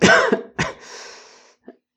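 Two harsh coughs close up, followed by a long raspy exhale and a small faint sound at the end.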